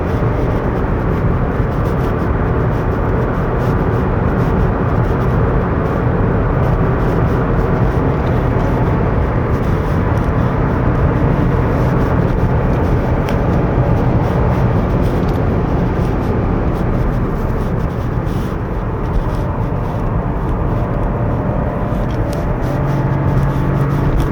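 A 2025 Chevrolet Trax Crossover RS held at high RPM on a winding road, heard from inside as a loud, steady broadband engine and road roar without pauses.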